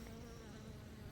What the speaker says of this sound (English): There's a bee on my knee.